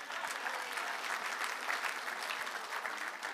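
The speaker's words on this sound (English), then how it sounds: "Give yourselves a hand" A packed crowd at a live event in Fredericton applauds themselves, a thick, even wash of clapping with no breaks or single voices standing out.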